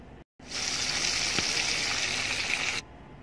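Chicken fries in a pan with a loud, steady hiss and sizzle that starts after a brief silence and runs for over two seconds before cutting off.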